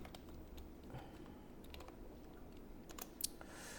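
A computer keyboard being typed on while a formula is entered in a spreadsheet: quiet, close key clicks in a loose, irregular run with a slightly louder tap near the end.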